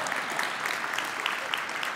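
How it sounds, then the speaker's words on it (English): Audience clapping at a PyCon 2014 lightning talk session, a dense, even patter of many hands filling the whole stretch at fairly close range. "you should have given me a round of applause at this point"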